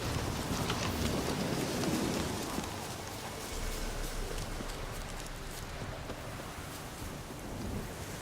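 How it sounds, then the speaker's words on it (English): Heavy downpour in The Witcher 3 plays as a steady, dense hiss of rain, moderately loud and unbroken, with no talk over it. "This downpour's a bastard"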